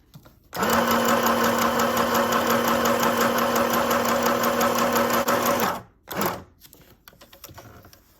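A portable sewing machine runs steadily and loudly for about five seconds with a dense mechanical whir and rapid needle rattle, stops abruptly, then gives a brief second burst followed by faint handling noises.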